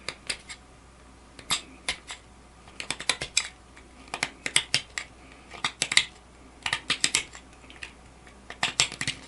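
A CPM S60V steel knife at 66.5 HRC, sharpened to 10 degrees per side, makes repeated short, crisp cutting clicks in irregular bursts; the sounds are close and moderately loud, with no talking.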